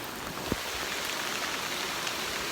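Steady heavy rain pours down in a forest in the Great Smoky Mountains, a dense, even hiss of countless drops close around with no voices.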